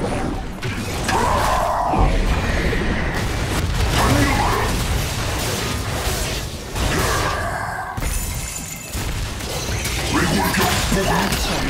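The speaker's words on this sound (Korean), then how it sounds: "파랑 팀의 포탑이 파괴되었습니다." A turret crumbling apart in League of Legends: dense crashing, shattering debris and heavy booms fill the clip loudly and continuously, with layered impacts and game effects throughout.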